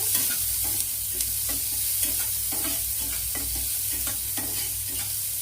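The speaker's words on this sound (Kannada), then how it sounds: "ಇದನ್ನು ಚೆನ್ನಾಗಿ ಮಿಕ್ಸ್ ಮಾಡ್ಕೋಬೇಕು." Fried rice ingredients with onions stirred in a hot pan, a continuous sizzle broken by a regular rhythm of spatula scrapes and knocks, heard up close without any voices.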